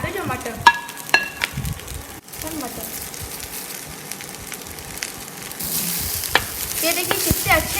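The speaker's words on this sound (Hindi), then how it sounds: "अब हम लोग इसमें डालेंगे कैबेज और मटर।" Cabbage and peas are stirred into sautéing carrot, French beans and capsicum in butter on a tawa, giving a steady sizzle with sharp scraping and clinking strokes of the spatula, and a voice speaks briefly.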